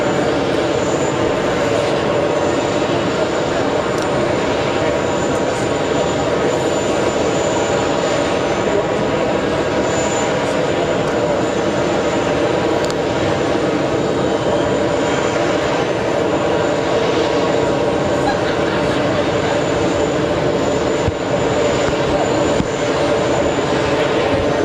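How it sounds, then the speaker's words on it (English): Airbus A380 jet aircraft at JFK airport, a loud continuous engine roar and rumble held steady across the whole clip, no talking. "A380 is going to be pushing any moment now"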